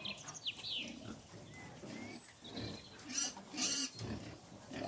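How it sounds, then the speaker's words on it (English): Piglets on a farm grunting and squealing as they are fed watermelon, a close, busy mix of snorts and higher squeals with a few small voices nearby. "my girls got to feed watermelon to some piglets"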